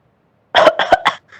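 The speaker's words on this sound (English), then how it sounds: "Like that you will cough, right?" A child in a primary school English class coughs several times in quick succession, close and loud, each burst short and sharp, followed by a faint trailing sound.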